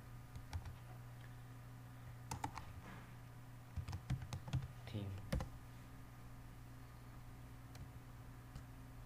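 Someone types on a computer keyboard. Scattered sharp key clicks come in short bursts over a steady electrical hum, faint and close, with a quiet voice speaking now and then.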